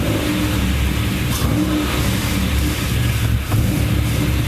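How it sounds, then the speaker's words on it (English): Short quarter-throttle blips from a car engine sound as loud, close, rasping revs that swell and drop in quick succession, heard alone without talking. "These are about quarter throttle revs."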